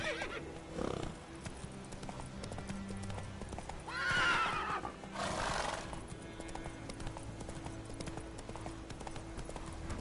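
Hooves clip-clop at a gallop in The Witcher 3, with a horse neighing loudly around the middle of the stretch and a short whinny earlier.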